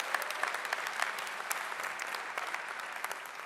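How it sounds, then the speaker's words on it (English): A graduate commencement audience at a 2019 university ceremony breaks into steady, dense applause, a broad wash of many hands clapping at moderate distance with no talking. "Yeah, you can clap for that."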